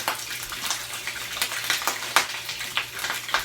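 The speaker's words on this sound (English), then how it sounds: "frying up my bacon" Turkey bacon fries in a little oil in a skillet, giving a steady close crackling sizzle broken by frequent sharp pops and spits, with no talking.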